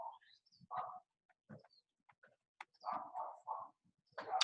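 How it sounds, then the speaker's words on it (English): A dog barks in short bursts from a distance, separated by quiet gaps, with small chirping sounds in between. "hopefully you don't hear that dog barking"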